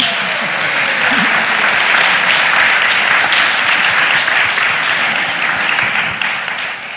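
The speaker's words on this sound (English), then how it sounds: "give them an applause" Audience applause at a Berlinale Talents 2015 talk on body movement in space, dense steady clapping filling the hall for about seven seconds, loud and close, tapering slightly at the end.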